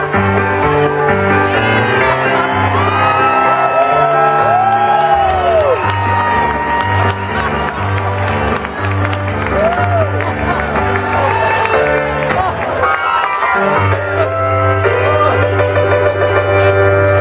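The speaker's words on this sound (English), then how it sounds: "Give Dirk a huge round of applause" Stadium crowd at the 2013 World Series Game 4 roaring, cheering and whooping in a continuous loud wall of noise, with music playing beneath the crowd throughout.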